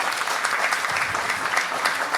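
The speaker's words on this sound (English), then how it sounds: "give yourselves a round of applause" A live show audience applauds steadily and fairly loudly, dense clapping that fills the whole stretch with no voices on top.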